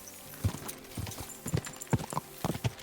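Horse hooves clip-clopping in the video game Kingdom Come: Deliverance 2, a steady walking rhythm of hoof strikes, fairly close and clear, with no talking.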